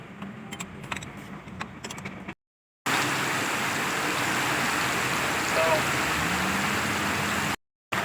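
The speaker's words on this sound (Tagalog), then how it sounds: "Grabe ka ulan. Baha na rin." Steady, dense hiss of heavy rain pouring down amid flooding, broken by brief gaps of silence, with a faint voice briefly audible near the start.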